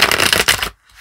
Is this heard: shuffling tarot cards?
yes